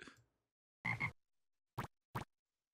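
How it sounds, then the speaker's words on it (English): A cartoonish king frog from the Hoyle's Book of Games computer game croaks: one long croak, then two short sharp croaks a moment apart, clear and alone against silence. "Well, that's going to be a king frog."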